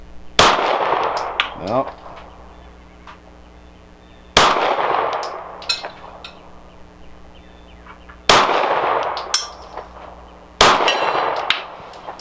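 Walther PDP Compact pistol shots striking steel gong targets of several sizes, four sharp reports spaced a few seconds apart, each followed by a ringing metallic clang that decays; a brief spoken word.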